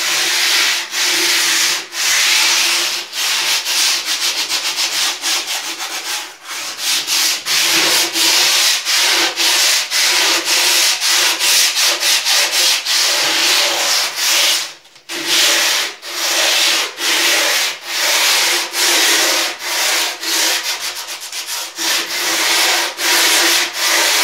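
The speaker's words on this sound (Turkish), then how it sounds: "Onları yok etmek için biraz zımpara yapacağım." Sandpaper worked by hand over dried relief paste on a wooden dresser top, steady rhythmic back-and-forth scratching strokes, close and loud, continuing throughout with one brief pause.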